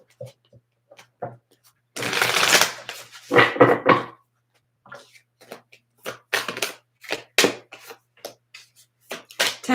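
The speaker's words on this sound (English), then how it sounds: "This is the Black Tarot, if I could remember how to shuffle." A Black Tarot card deck being shuffled up close: a long riffling burst followed by shorter rustles and snaps of cards in uneven, stop-start handfuls, with quiet gaps between.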